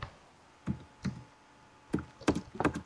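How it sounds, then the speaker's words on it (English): Blocky axe-chopping sounds on a tree in the video game Minecraft, a series of short thuds that come in irregular pairs and clusters at moderate volume, with quiet gaps between them and no talk. "I'm gonna chop some wood."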